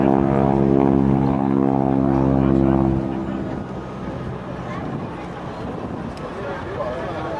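Aerobatic propeller airplane at an airshow, a loud droning engine tone for the first few seconds that fades to a distant rumble under crowd and wind noise.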